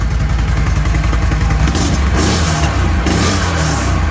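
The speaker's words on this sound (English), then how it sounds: "to give you a little startup of the stock exhaust so you hear the difference between that and the Yoshimura" A V-twin motorcycle on its stock exhaust runs at a loud, close, steady drone. It rises slightly as the throttle opens, and no voices are heard.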